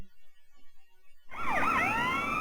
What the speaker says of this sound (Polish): No i jedzie policja. LSPD. Los Santos Police Department.